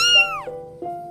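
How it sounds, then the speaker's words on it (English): An orange kitten gives two clear, close meows: a longer rising-and-falling call, then a shorter one a moment later. "It is a cute orange kitten."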